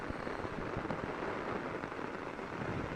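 Torrential rain pounds steadily on an umbrella during a summer flash flood on Long Island, a dense, unbroken drumming hiss that stays close and loud with no talking.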